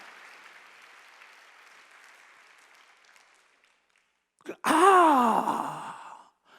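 Congregation clapping in a church during a Sunday worship sermon, a sudden loud burst of applause that swells then fades over a couple of seconds, preceded by a faint murmuring voice and a quiet pause.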